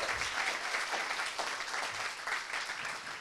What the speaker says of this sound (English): can we just give Carfe a round of applause